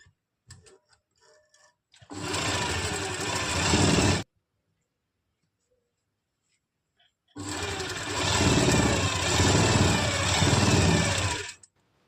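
A sewing machine stitches an Afghani salwar seam in two steady runs of fast, even whirring, each a few seconds long. The runs are separated by a pause, and the machine sounds close and loud.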